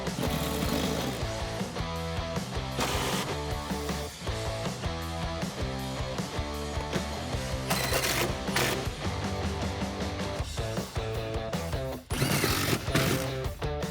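Seat bolts being tightened during a Corbeau seat install in a Mustang, a dense run of rapid ratcheting clicks from a power tool, loud and close, with brief bursts of higher whirring.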